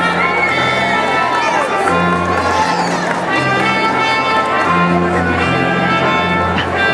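Dense crowd noise at a college commencement ceremony, with cheering, shouting and screaming sustained throughout, voices layered and loud close by.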